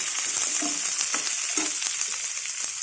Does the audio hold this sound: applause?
no